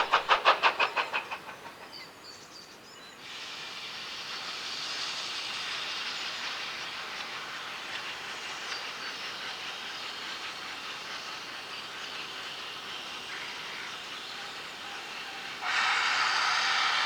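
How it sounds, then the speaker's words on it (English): Steam locomotive 7812 Erlestoke Manor stands at a heritage railway station during an autumn steam gala, with a short burst of chuffing giving way to a long, steady hiss of escaping steam that swells louder near the end. "we find 7812 Erlestoke Manor drawn to a halt at the station with the 10:45 AM Minehead"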